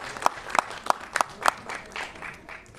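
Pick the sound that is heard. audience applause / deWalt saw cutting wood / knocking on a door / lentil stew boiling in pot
audience applause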